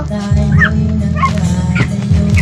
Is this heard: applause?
no